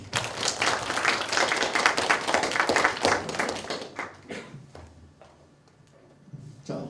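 Students in a lecture on Dokdo and maps clap together in a brief burst of applause that fades out after about four seconds, leaving a few scattered claps in a quiet room.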